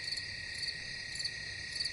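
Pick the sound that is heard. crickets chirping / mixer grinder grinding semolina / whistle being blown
crickets chirping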